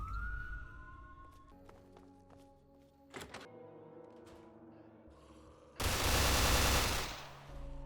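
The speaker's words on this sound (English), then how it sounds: "I hear lots of gunfire, and it isn't even from Amanda or Sharon." Several sharp thunks and clicks ring out, followed by a loud, dense burst of rapid gunfire lasting over a second, with no talking, in the video game Fallout.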